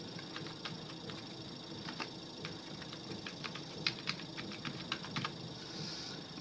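Aadhaar card number being typed on a computer keyboard: a quiet run of light, uneven key clicks, sometimes in quick bursts, heard close and alone over a faint room hum.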